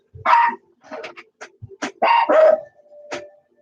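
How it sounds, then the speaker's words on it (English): Dogs bark at someone arriving at the front door, giving several sharp, loud barks and yips in uneven bursts close by, with short pauses between them. "Oh, dogs, please. Somebody came to the front door."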